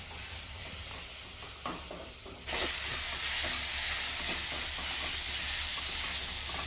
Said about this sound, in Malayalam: എന്നിട്ട് അത് നന്നായിട്ട് ഇളക്കി വഴറ്റി എടുക്കുന്നതാണ്.